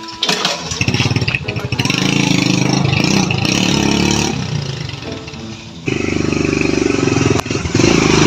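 A motorcycle engine starts and runs steadily, loud and close, with a rough droning tone through most of the stretch and a brief dip partway.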